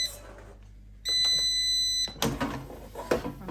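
An air fryer reheating turkey gives a steady electronic beep lasting about a second, clear and close, followed by handling clatter and movement noise.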